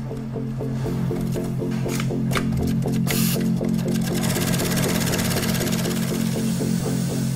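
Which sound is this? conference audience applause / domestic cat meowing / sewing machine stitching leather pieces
sewing machine stitching leather pieces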